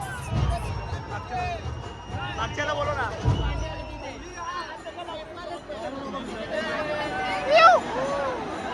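A crowd at a Ganesh immersion procession in Badlapur murmurs and shouts in a steady outdoor hubbub, with nearby voices talking and calling out over it and a few thuds and bursts along the way.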